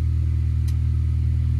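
A Honda Accord 2.0T engine idles on a cold start after a spark plug change, a loud, steady low rumble close to the microphone with a faint brief click partway through.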